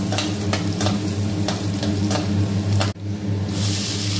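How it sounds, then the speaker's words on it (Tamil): Onions sautéing in a pan for drumstick kuzhambu, a dense close sizzle over a steady low hum, with rhythmic stirring strokes and a brief drop before the frying hiss brightens again. "நல்லா வெங்காயம் வதங்கட்டும்."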